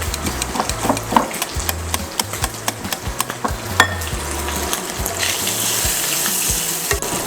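Bacon frying in a pan for carbonara, a continuous crackling sizzle with low bubbling pops and occasional utensil scrapes, close and fairly loud.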